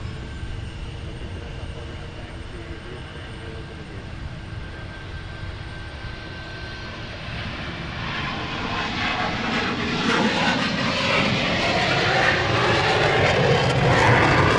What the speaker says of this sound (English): There goes our F-15.